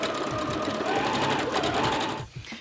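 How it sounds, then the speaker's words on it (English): A sewing machine stitches a t-shirt sleeve with a steady, fast mechanical whir that runs evenly for a couple of seconds, then slows and stops near the end. "that way you can get the sleeve actually over the machine, and then there's no risk of it getting caught up underneath itself"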